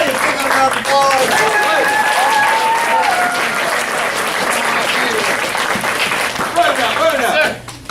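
Applause for students at a martial arts graduation ceremony, steady crowd clapping over several seconds with overlapping cheers and voices, tapering at the end.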